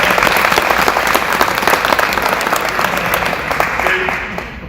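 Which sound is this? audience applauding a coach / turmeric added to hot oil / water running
audience applauding a coach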